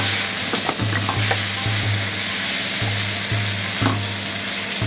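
Yakisoba fries in lard on a hot griddle with a loud, steady sizzle, while a spatula scrapes and stirs the noodles in short, repeated strokes.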